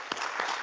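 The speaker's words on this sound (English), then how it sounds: "So a round of applause for the panelists" Brief burst of audience applause for panelists at a regional carbon market alliance session, a short steady patter of clapping at moderate level.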